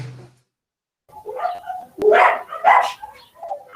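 A dog barking and yipping at home during an online anatomy class, a few sharp close barks in quick succession after a short silence.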